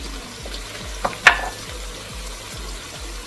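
Onion sautéing in a pan for a Nigerian native gravy, a soft steady sizzle with a couple of brief utensil clinks and scrapes partway through, close and moderately quiet with no talking.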